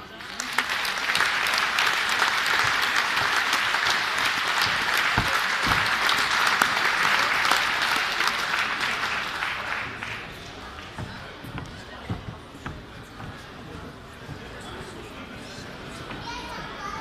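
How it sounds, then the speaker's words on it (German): Spectators applaud the winners at the awards of a hill climb race, the Waldau free hill climb of 2017. About ten seconds of full, steady clapping fade into scattered crowd chatter and children's voices. "So, nochmal Applaus für die zwei."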